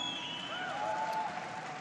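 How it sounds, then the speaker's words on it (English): Applause rising from an audience at a political speech, a dense steady clapping texture across the whole short stretch, moderately distant and with no voices over it. "Give them a big round of applause."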